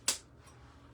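A single sharp snip from a lightweight pair of wire cutters bought at Home Depot, cutting wire during Christmas bow making; one crisp close click, then quiet room tone.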